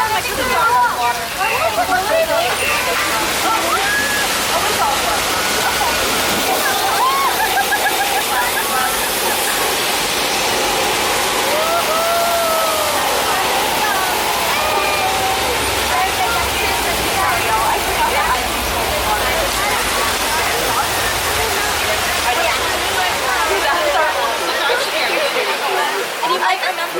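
Artificial rain pouring down on a studio backlot set during a theme park tour, a loud, steady broadband rush of falling water and splashing that runs throughout, with people talking over it.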